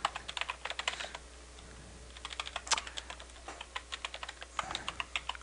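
Typing on a computer keyboard, a quick run of light, close clicks in uneven bursts with short pauses, alone in a quiet room.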